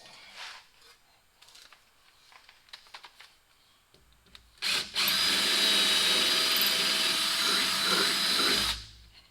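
A power drill, used while fitting new headlight parts on a Mack Granite dump truck, whirs loudly for about four seconds after a few quiet taps and knocks, then cuts off abruptly.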